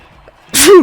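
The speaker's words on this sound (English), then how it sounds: "I've been feeling that sneeze coming for a while" A single loud, close sneeze erupts at the end, preceded by a brief quiet intake of breath, from a player recording a Grandia video game walkthrough.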